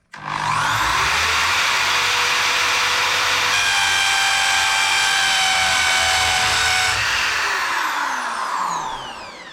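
A DeWalt DWD024 750W 13mm impact drill in hammer mode bores into a wall, revving up quickly into a loud, sustained whine with a gritty hammering buzz, then winding down at the end.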